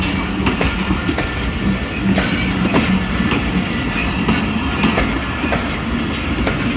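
Jaffar Express passenger train running through Attock City Junction, a steady loud rumble of wagons with repeated clickety-clack wheel beats over rail joints, close by and continuous with no talk.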